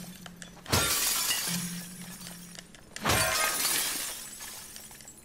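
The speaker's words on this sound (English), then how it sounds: "Now, why break glass if we can't get into anything?" Glass shatters twice in The Last of Us Part II, each a loud sharp burst of breaking glass with a long tinkling trail of fragments, about two seconds apart over a quiet game backdrop.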